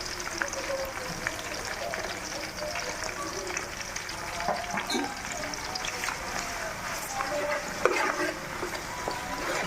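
Curry leaves and ginger garlic paste frying in oil for a Nellore-style fish curry, a soft steady sizzle with scattered crackles and stirring under a voice.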